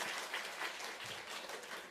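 A congregation claps at a Sunday morning worship service in a church, welcoming a choir member; the applause is a dense, steady patter that fills the short stretch on its own.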